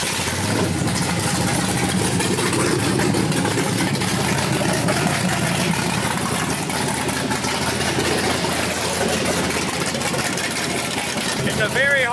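Porsche 911 with a swapped LS3 V8 idling steadily after being jump-started, a continuous low engine drone, with people talking nearby throughout.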